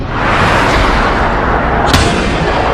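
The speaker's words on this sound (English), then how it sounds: "To me, it sounds like a very large explosion." A deep, heavy boom rolls out and lingers as a long rumbling roar, with a sharp crack near the end.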